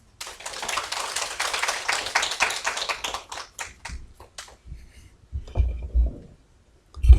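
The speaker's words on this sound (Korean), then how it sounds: "박수로 환영하겠습니다" Congregation in a church applauding to welcome the preacher to the pulpit, a dense burst of clapping that thins into scattered claps and fades out, with a few low thumps near the end.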